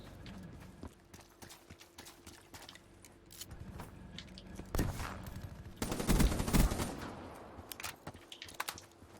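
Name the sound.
turret firing in video game Call of Duty Black Ops 3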